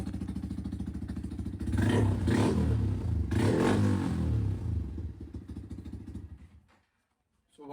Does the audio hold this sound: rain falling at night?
no